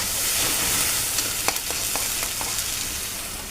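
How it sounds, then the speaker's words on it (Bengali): A loud, dense sizzle of onions frying in a pan, broken by a few sharp crackles and pops. "এবং পেঁয়াজ সম্বারা দিয়ে একটু ভেজে নেব।"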